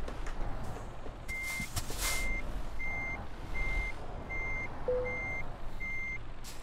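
Truck reversing alarm in Euro Truck Simulator 2, a steady series of about eight evenly spaced beeps over a continuous engine rumble while the rig backs into a parking spot.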